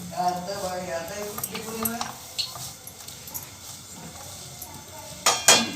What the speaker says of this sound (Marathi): आणि आता सगळं मिक्स करून घ्यायचं